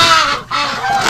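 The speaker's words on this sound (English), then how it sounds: "they had to give us a bit of a quack before we left here" Wintering geese and ducks give a few loud, close honks and quacks in quick succession, with a short pause between calls and no voices over them.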